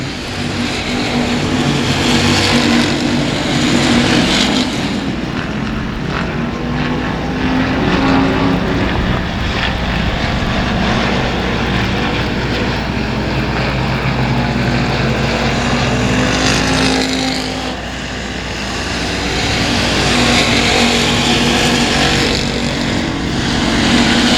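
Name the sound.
race cars racing on a speedway track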